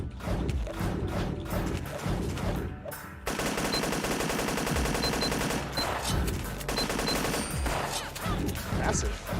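Rapid, dense shotgun blasts in a video game fire in quick bursts with mechanical clatter between them, loud and continuous, with some game sounds mixed in.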